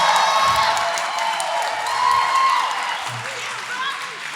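Wedding guests at a reception break into clapping mixed with cheers and whoops, a lively crowd reaction that stays strong and then eases off slightly toward the end.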